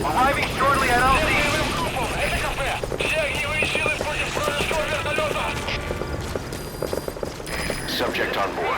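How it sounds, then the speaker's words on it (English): Support helicopter arriving at a landing zone in Metal Gear Solid V, a loud rotor roar with rhythmic chopping growing clearer over several seconds, with a voice speaking briefly at the start. "Support helicopter has arrived."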